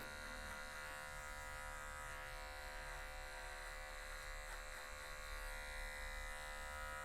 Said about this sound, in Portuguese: Você sempre tem que raspar bastante.